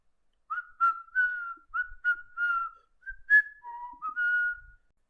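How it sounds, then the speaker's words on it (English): A person whistles a Christmas tune: a clear, close melody of several short phrases with brief pauses, alone against silence. "I waved goodbye and walked home, whistling a Christmas tune along the way."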